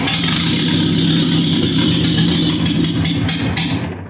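A 1980 Triumph TR7 engine runs loud and close, a steady rough idle with a strong low throb and no talk, fading slightly as the clip ends.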